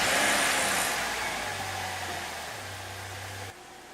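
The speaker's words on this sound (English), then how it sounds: "I'm going to turn the car on." A car engine running just after starting settles into a low, steady idle hum beneath a broad wash of noise that fades slightly over a few seconds, with no voices.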